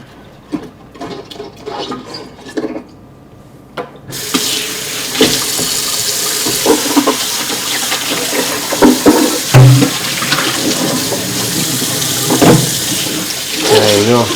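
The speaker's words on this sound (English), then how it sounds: "one last rinse before I put it all back together" Water pouring and splashing while a fish tank is rinsed, a steady rushing tap stream that starts abruptly after a quieter stretch with light clatter, continuing loud and close with small splashes.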